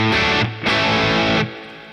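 Distorted electric guitar lead tone through a small practice amp, saturated and aggressive: two sustained phrases, the first brief and the second longer, played loud and close with no voices.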